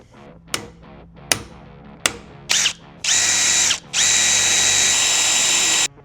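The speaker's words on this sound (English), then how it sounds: "I'm actually going to drill it out a little bit bigger than 1/4 inch" A few sharp taps, then a power drill whines in two sustained bursts, biting loudly into a metal pedal arm to widen a bolt hole beyond 1/4 inch, with a brief pause between runs.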